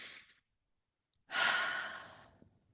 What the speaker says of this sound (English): Place your hand on your heart and take a deep breath.